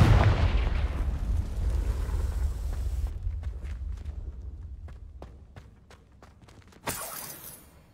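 A Confringo fire spell explodes in Hogwarts Legacy, a loud burst that fades into crackling debris and rumble, followed by a sharp impact near the end.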